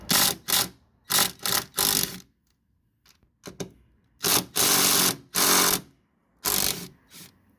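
A ratchet wrench loosening the 13 mm top strut bolts on a 2005 Chrysler 300C during a suspension replacement, heard as close, loud bursts of rapid clicking that come in short spurts separated by brief pauses.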